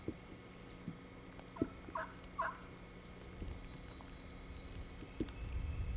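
A hunter's turkey call yelps slowly, imitating a lonesome jake, in a few faint, spaced notes over a quiet outdoor background with scattered small knocks.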